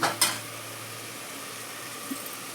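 Mutton stirred into a pan for curry, giving a faint steady sizzle with a couple of sharp spoon-on-pan clinks at the start.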